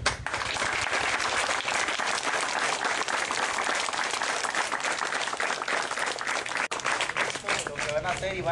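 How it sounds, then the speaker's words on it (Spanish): A strong welcoming applause greets regional crime-prevention officers at a school event, a dense, loud and sustained wash of many hands clapping that keeps going for several seconds without a break. "le damos la bienvenida con un fuerte aplauso"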